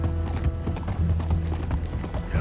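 Steady, rapid clip-clop of horse hooves at a gallop in the video game Red Dead Redemption 2, continuous and fairly loud, with a faint mechanical clatter underneath.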